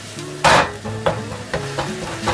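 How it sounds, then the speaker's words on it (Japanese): Fried rice ingredients with ginger are stir-fried in a pan at home, giving a steady loud sizzle broken by a few sharp scraping and tossing strokes. "炒めていきます。 火を通していきます。"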